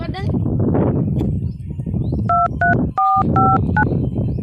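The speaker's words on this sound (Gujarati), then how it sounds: "ફોન જ કરી દઈએ" A telephone keypad is dialed, sending a quick run of DTMF beeps, some short and some held, over loud overlapping talk in a comedy scene.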